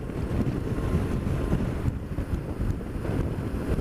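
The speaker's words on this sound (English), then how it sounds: "wind's blowing a gale up here" Strong gale wind buffets the microphone on a motorcycle ride, a continuous loud rumbling roar with gusty swells throughout, close and with no voices.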